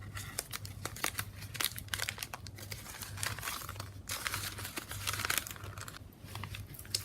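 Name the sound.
piece of tape torn and applied to folded paper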